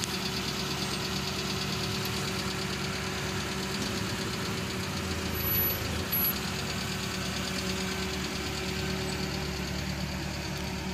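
A car engine running steadily while the car is driven slowly on a slope, a constant mid-pitched hum with a faint knocking vibration, close and even for the whole stretch, with no talk.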